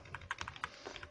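Fingers type quickly on a computer keyboard, a run of soft, close key clicks in an uneven rhythm, faint and alone without talk.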